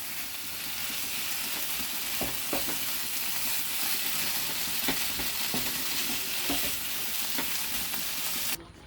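Chicken pieces fry with spice paste in a pan, a steady close sizzle with occasional stirring scrapes through most of it, cutting off just before the end.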